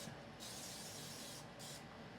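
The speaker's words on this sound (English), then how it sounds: "I'm gonna spray" Aerosol spray hisses onto a mixer in two bursts, a long one followed by a shorter one after a brief pause, close and fairly faint.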